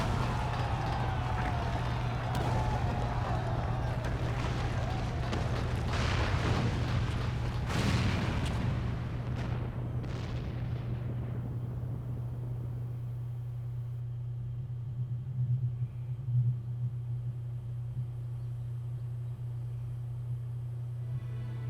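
In the Final Fantasy XIV video game, a cannon blast and the collapse of a tower make a loud, deep rumbling boom that rolls on and fades over several seconds, above a steady low hum that continues after it.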